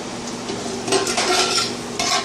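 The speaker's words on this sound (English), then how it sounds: "Just give a little stir." Whole spices are stirred in hot oil in a pan, sizzling and frying steadily, with a spoon scraping and clinking against the pan in short bursts.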